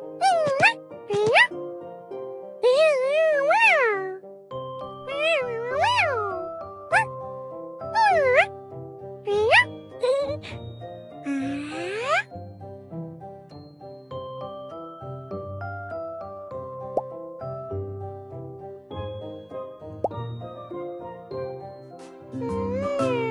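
A cartoon cat meows repeatedly in a children's drawing game, with bright, rising and falling cries one after another over tinkling game music, before the music carries on alone.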